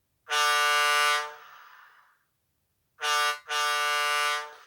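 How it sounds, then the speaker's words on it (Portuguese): A deep, loud ship horn blast sounds once and fades with a ringing tail, then after a pause comes a short toot followed by a longer blast. "É uma buzina de um navio"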